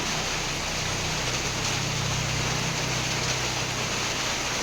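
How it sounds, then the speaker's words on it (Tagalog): Steady rain falling outdoors, a dense, constant hiss of drops with no pauses or voices. "Baka hindi uminto yung ulan"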